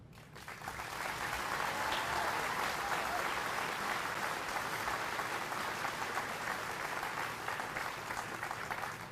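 Sustained applause at a high school graduation ceremony for Latin Honors recipients, a dense even patter of many hands clapping from a large audience, starting abruptly and holding steady throughout.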